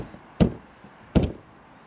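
Two crisp knuckle taps land on a locked motorhome locker door of a Hymer van, close and hollow. They come about three-quarters of a second apart over faint background hiss.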